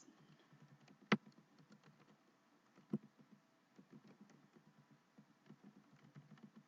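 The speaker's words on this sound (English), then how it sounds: "I'm typing it right now for you." Quiet, fairly even clicking of a computer keyboard being typed on, with a couple of sharper key strikes standing out in an otherwise hushed indoor room during a live tarot reading stream.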